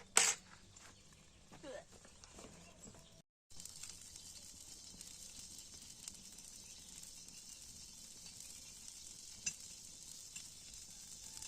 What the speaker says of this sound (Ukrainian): Поки воно там жариться яйце